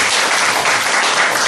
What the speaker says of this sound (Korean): 박수 한번 좀 보내주십시오.